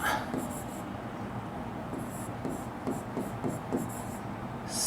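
Pen scratches out a short note in quick, scattered strokes with small taps and pauses, close and fairly quiet.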